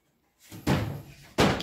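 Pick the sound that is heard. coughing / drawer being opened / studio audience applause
drawer being opened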